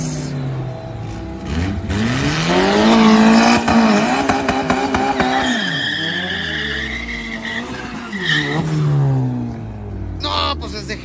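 A B10-engined car at live drag races in Chihuahua, Mexico, roars loudly and close, revving hard with tire squeal and swooping engine pitch over continuous crowd and announcer chatter.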